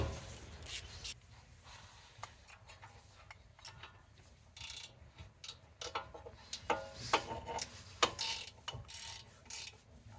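A 1/2 inch drive ratchet with a 17 mm socket works loose the brake bolts on a 2004-2008 Acura TSX, giving quiet, uneven clicking and ticking with metallic clinks, close but faint and without speech.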